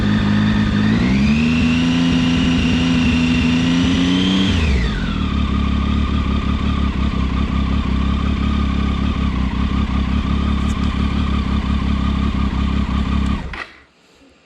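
Motorcycle engine running with headlights on, revving up from idle to a loud steady high-rpm drone for a few seconds, then dropping back to a rough, clattering idle before being switched off abruptly near the end.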